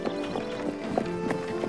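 Horse hooves clip-clop in a steady walking rhythm on a hard surface in a fairy-tale story scene, several distinct close hoofbeats over a low background, with a faint trace of voice.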